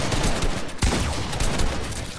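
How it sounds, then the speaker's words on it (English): An opponent's gunfire crackles in rapid, dense bursts during a Fortnite box fight, with one sharper close shot standing out. "Oh, but he's shooting at me instead."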